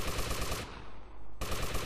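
Rapid automatic gunfire in the video game GTA Vice City, dense loud bursts that break off briefly and then resume, heard close with no talking.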